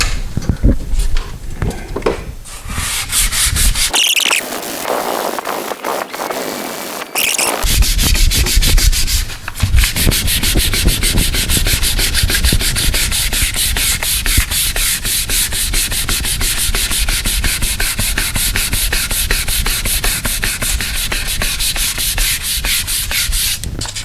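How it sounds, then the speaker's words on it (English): A sanding block wrapped in 400-grit sandpaper rubs back and forth over a dented metal door in steady, continuous close-up strokes, loud and unbroken throughout. "we're going to get in here with a sanding block, and we're going to finish this off"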